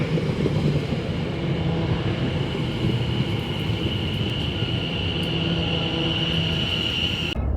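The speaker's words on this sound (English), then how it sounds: "We were just stopping to let a fast train pass by on the other track." A fast train rushes past close by on the other track while another train waits, a steady roaring rumble and rattling wheels, loud and continuous throughout, with a faint high whine.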